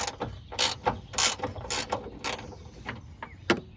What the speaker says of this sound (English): That's why you have to use a wrench.